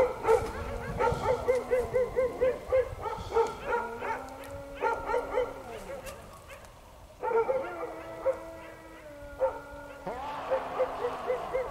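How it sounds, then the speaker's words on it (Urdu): Dogs bark and yip repeatedly at night near a graveyard shrine, in a choppy series of sharp barks and whimpering yelps mixed with faint voices and rustling. "یہ کتے بھونکنے کی آواز آ رہی ہے، ڈاگ بارکنگ۔"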